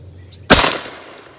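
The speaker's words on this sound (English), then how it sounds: "We're gonna be running it through this Grass rifle." A single loud gunshot from an old Gras rifle firing a 28 gauge buckshot reload at an outdoor range, a sharp close blast with a short decaying tail.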